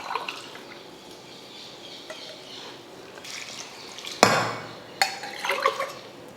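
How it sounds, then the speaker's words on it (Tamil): Water is poured onto rice for an instant Dindigul chicken biryani kit, soft trickling and splashing that grows louder in short bursts toward the end. "இப்போ தண்ணி சேர்த்துக்கலாம்."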